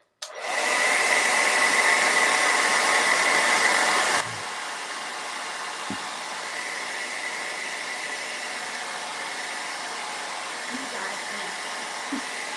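A hair dryer blows on wet paint on a flourish heart door hanger, a loud rushing whir for about four seconds that then drops to a softer, steady hum with a faint click partway through.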